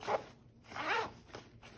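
Zipper on a Marom Dolphin Baloo backpack with a polymer ergonomic pull handle, drawn in several quick close strokes, a raspy, soft ripping heard alone with no talk.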